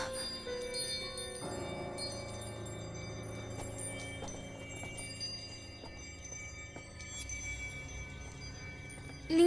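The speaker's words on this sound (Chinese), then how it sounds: "铃声越来越响，越听越像是不祥之兆啊" A bell rings steadily in a tense period drama scene, its tone sustained and growing fuller over about nine seconds against a humming background, with a swell at the very end.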